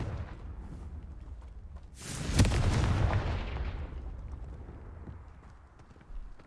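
A Confringo blasting spell in Hogwarts Legacy goes off as a single loud fiery explosion that bursts and then fades into a long rumbling crackle over several seconds, with faint game ambience around it.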